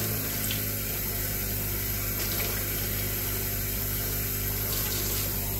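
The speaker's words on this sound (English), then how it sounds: "Rinse that out." Steady rush of water running through a household coffee maker during cleaning, continuous and close with a low pump-like hum beneath, no talking.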